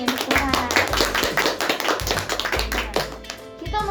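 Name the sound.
children clapping hands during a church service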